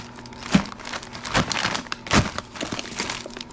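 Plastic bag crinkles and rustles in several sharp bursts, close by, with brief quiet gaps between handlings.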